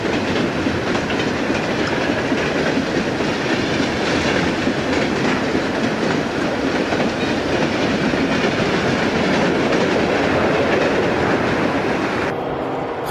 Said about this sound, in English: There's the ore off the D&H,